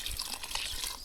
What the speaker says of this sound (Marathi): पाणी ते गरम करले तेच टाकतो आता याच्यात